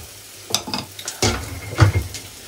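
Oil crackles and sizzles in a pan with a lot of oil, a few stirring scrapes and clinks, moderately close, with no talking.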